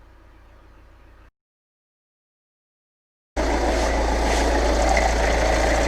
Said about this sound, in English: As you can hear, the car is still running.